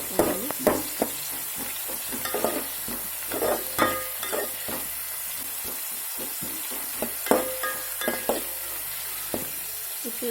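A spoon stirs mutton curry ingredients in a frying pan, giving repeated scraping strokes over a steady sizzle, close and fairly loud, with no voices.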